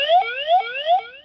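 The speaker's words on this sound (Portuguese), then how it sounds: "Quando eu der ok, ele vai dar o mesmo alarme que ele dá quando liga" A Skytraxx 3.0 flight instrument sounds its airspace alarm, a clean electronic tone that sweeps upward and repeats three times in quick succession, loud and close with nothing else around it.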